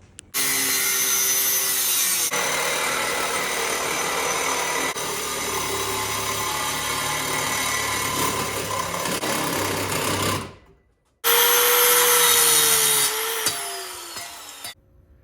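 A stainless steel exhaust pipe end being cut off on a table with a power tool: a loud, continuous buzzing cutting drone for about ten seconds, a brief pause, then another short burst of cutting.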